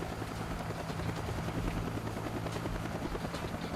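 Huey helicopter flying in Arma 3, a continuous rapid rotor thump with a low engine drone, fairly close and steady throughout with no talking.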